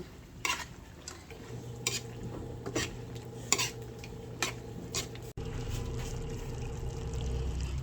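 Chicken feet adobo with vinegar stirred in a pot: repeated light scrapes and clinks of a utensil against metal over a quiet simmering sizzle, close and fairly soft.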